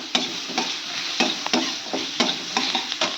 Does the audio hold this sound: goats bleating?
no